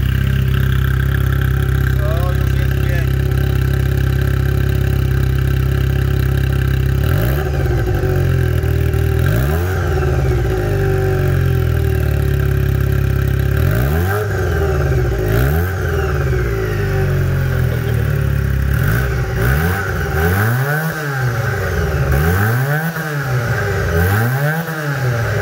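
A Junak M15 motorcycle engine idles steadily, then revs up repeatedly in a series of rising and falling bursts, loud and close, with no talking.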